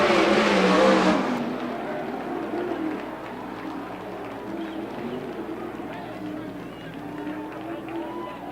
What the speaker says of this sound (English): They're side by side down the back straightaway, racing for the pole here in the Peter Murphy Classic